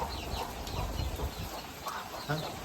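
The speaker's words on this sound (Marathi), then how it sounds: "बघा कोंबडी कशी धावते मित्रांनो" Nearby clucking from a hen comes in quick irregular bursts over soft rustling and movement.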